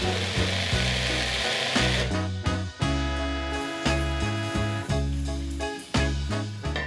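A blender blitzes roasted red pepper romesco sauce, a loud, close, dense roar that keeps cutting out and starting again in pulses, with no one talking.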